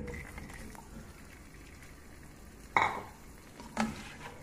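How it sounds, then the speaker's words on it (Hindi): Half a kilo of chicken frying in hot oil with salt for a green chicken karahi, a steady low sizzle broken by two brief louder scrapes or stirs near the end. "3 मिनट के लिए चिकन को मैंने फ्राई कर लिया।"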